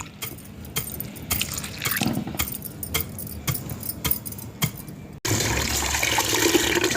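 Pounded jowar (sorghum) grains are handled with irregular clinking and rustling, then water splashes and pours steadily as the grains are washed, with no talk.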